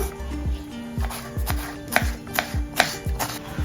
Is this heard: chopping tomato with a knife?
yes